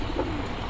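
Madrasi pigeons cooing in a loft, a soft low burble close by that runs through the short moment with no voices.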